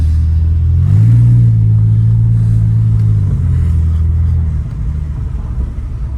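Porsche 911 engine revving while driving, a loud close low-pitched drone that climbs and holds for a couple of seconds, then eases off into a softer rumble.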